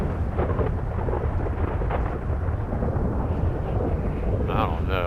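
Thunder rumbles through a storm in a horror video game, a heavy continuous low roar filling the whole stretch, with a brief brighter burst near the end.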